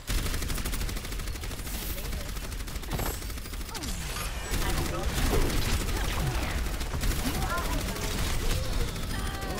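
Rapid gunfire crackles through an Overwatch match, dense and continuous bursts layered with game effects while a player talks over the action.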